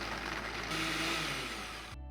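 A blender whirring through a mix of soaked cashews, water, sake lees, salt, white miso and white wine vinegar, a short dense motor drone that holds steady for about two seconds and then cuts off abruptly.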